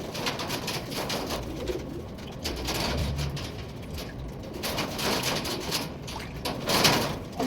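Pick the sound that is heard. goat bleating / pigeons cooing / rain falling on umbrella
pigeons cooing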